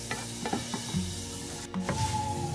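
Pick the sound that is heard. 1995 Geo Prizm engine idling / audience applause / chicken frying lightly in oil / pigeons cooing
chicken frying lightly in oil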